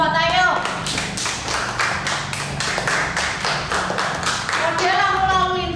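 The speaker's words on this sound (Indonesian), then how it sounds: "Tepuk tangan buat kelompok Tayub." A classroom group claps together for fellow students who have just presented a traffic light model during a university teaching practice session, a steady run of close, rhythmic hand claps with a voice talking at the start and end.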